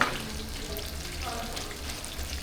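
Jamaican saltfish fritters sizzle steadily in hot oil in a pot, a dense continuous frying crackle with occasional stirring, no talk over it.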